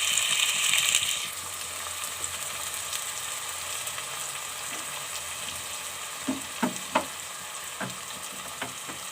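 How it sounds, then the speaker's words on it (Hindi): Chopped turnip sabzi frying in a pan over low heat, a steady soft sizzle, briefly louder at first, then a few light stirring knocks near the end, with no talk. "1 से 2 मिनट हल्की आंच पर हम इसे भूनेंगे।"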